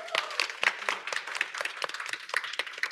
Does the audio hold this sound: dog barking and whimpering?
no